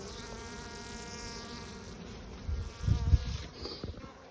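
Honey bees buzz over brood box frames during a hive inspection, a continuous close drone that swells and crackles louder partway through as the frames are handled.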